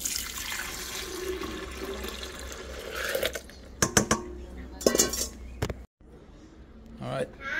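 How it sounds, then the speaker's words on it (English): Passion fruit juice pours and splashes into a blender in a few short bursts with clinks of glassware and kitchen clatter, under faint background talk. "Let's pour it in the blender."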